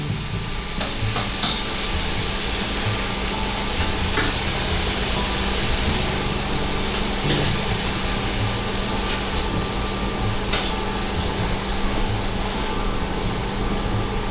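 Japanese hamburger steak patties sizzling in a pan after being flipped, a steady dense fry that continues evenly and fairly loud, with no talking.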